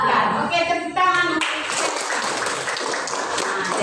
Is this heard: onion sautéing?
no